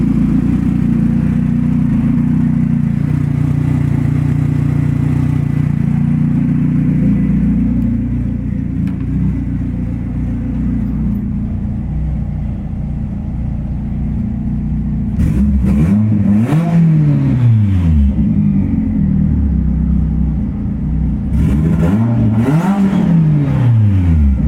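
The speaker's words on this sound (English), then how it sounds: "See if I can turn down the idle a little" A Yamaha RD/RD2 engine running on E85 idles with a deep, steady rumble up close. Two rising revs cut through, one after the other, with the idle settling in between.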